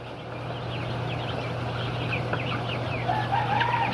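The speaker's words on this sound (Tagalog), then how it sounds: "yan ang aking mga bagong dating na sisiw, 82 peraso" A batch of 82 newly arrived broiler chicks, peeping in a continuous chorus of high, short chirps over a steady low hum, close and moderately loud, with no talking.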